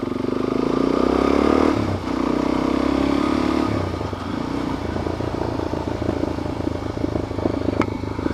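A motorcycle engine and exhaust rumble steadily and loudly nearby in Zion National Park, with clattering and scraping over its low idle, the tone shifting slightly partway through.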